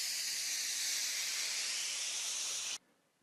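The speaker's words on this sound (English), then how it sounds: "followed by the sound of escaping steam" Steam escapes in a loud, steady hiss after a disaster on a bridge, holding constant for nearly three seconds before cutting off abruptly into near silence.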